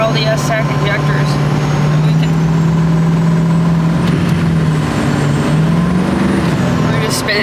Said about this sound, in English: we are in the Duramax. It's just fixed. I'm going to show you what it kind of sounds like.